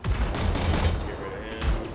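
Grenade launcher fire in the shooter game Anthem, a burst of loud, booming explosive blasts layered over continuous rumbling combat noise, with a voice speaking over the action.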